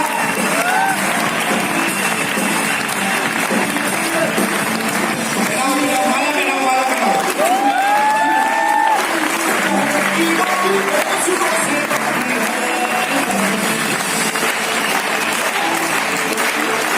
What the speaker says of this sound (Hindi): मैं चाहूंगा राणा सर के लिए एक बार जोरदार तालियां।